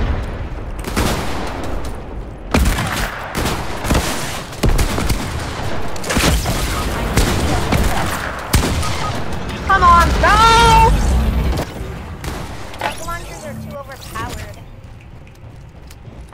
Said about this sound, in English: Dude, these rocket launchers are overpowered.